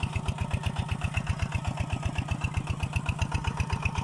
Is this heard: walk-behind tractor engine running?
yes